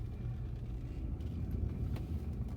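A 400 bhp Bentley Turbo RT with a 6.75-litre V8 moves off after being shifted into drive, its deep engine rumble steady and close with a low, even drone throughout.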